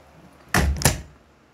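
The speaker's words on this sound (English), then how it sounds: "Oh, well, who was at the door, Mario?" Two heavy knocks land on a door in quick succession, close and loud, with no voices around them.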